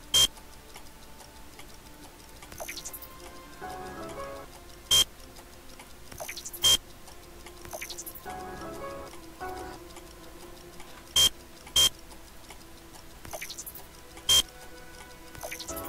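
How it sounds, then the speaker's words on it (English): A clock ticks steadily in the video game The Fall of Lazarus, with sharp ticks at irregular gaps over a low ambient hum and occasional muffled mechanical rumbles. "It's like ticking and such."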